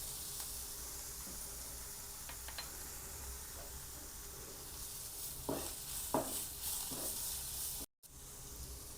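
Ingredients for mirchi pakoda sautéing in a pan with turmeric about to be added: a steady sizzling hiss throughout, with a few brief stirring scrapes near the middle and a short drop-out near the end.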